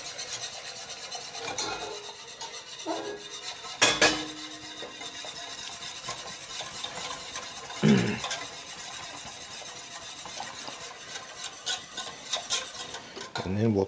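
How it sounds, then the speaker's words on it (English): Vigorous stirring of strained cooking liquid into a roux for a veal stew, a continuous scraping, rubbing swirl of utensil against pan with a few louder clanks against the pot's side, close by. "what we're going to do now is just add our liquid into our roux. And we're just going to stir it in quite vigorously."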